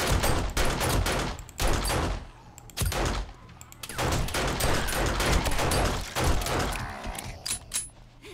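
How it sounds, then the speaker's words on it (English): Rapid bursts of gunfire in the zombie survival game 7 Days To Die, loud and close, with repeated volleys, short pauses and mechanical clatter between shots. "I shot his leg off"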